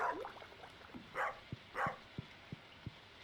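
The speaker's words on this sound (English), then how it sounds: "Dog's freaking out over there." A dog barks in the Stardew Valley video game, giving a series of short, evenly spaced barks at moderate distance, with a couple of softer whimpering or yipping sounds mixed in.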